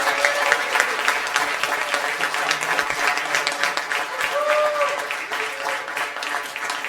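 School board meeting audience giving students a final round of applause, a loud, sustained clapping from a crowd lasting several seconds with a few faint tonal sounds mixed in.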